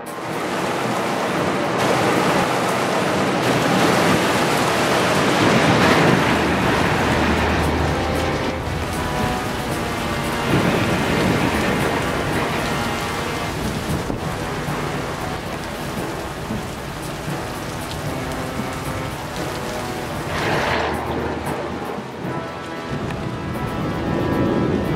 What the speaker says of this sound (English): It does rain here too.